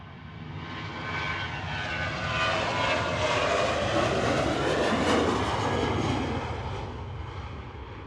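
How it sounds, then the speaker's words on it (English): A TUI Boeing 737-800 airliner departing Manchester Airport, its jet engines rising into a loud, broad roar that swells and peaks mid-way before easing slightly, heard alone without voices. "This is Tui heading off to Kos with flight 2764."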